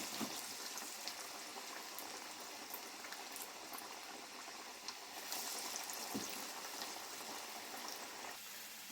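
Masala vada deep frying in oil gives a soft, steady bubbling hiss with scattered faint crackles, continuous and fairly distant throughout.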